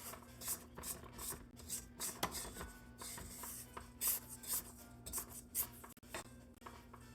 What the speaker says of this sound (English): I'm gonna scrape this down a little bit